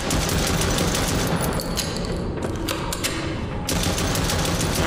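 Sustained rapid gunfire from the video game Chuxie, a dense continuous burst of automatic shots filling the whole stretch, loud and close with no talking.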